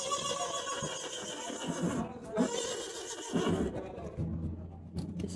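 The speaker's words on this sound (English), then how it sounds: "These are two BLM donkeys right here." A BLM donkey at a livestock auction gives a loud, rough, drawn-out call amid crowd and barn noise, with a few clattering sounds near the end.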